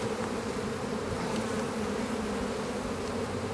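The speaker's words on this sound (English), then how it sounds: "brushing some bees off here so we don't kill too many" Honeybees buzzing around an open hive in a dense, steady drone, many insects close to the microphone with no pauses.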